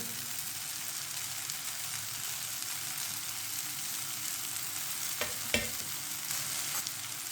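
Spices including salt, red chili and turmeric are stirred in a frying pan, giving a soft, steady sizzle with a few brief scraping stirs near the end, fairly quiet and without talk.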